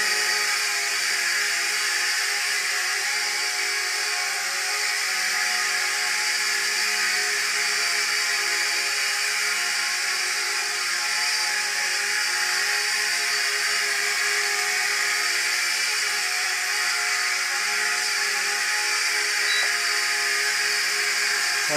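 Eachine E52 folding selfie drone hovering indoors while its trim is adjusted, giving a steady, continuous, high-pitched whir from its small propellers with no talk over it.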